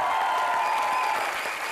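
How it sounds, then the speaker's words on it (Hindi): Audience applause on a comedy television show stage, a brief continuous wash of clapping from the crowd, steady and fairly loud throughout. "एक बार जोरदार तालियां हो जाए।"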